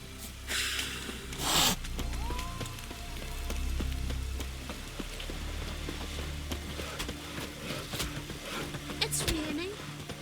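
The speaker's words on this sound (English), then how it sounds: "It's raining." Rain in The Witcher 3 video game, a faint, steady patter heard throughout beneath voices and other quiet game sounds.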